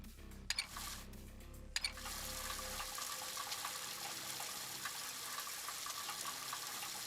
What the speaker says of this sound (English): Can we take a shower?